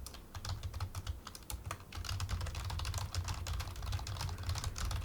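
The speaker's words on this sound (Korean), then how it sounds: "타이핑 소리가 얼마나 들어가는지 한번 보도록 하겠습니다" Rapid typing on a computer keyboard sitting just behind a microphone, a steady, dense patter of clicking keystrokes, continuous and fairly faint with no talk.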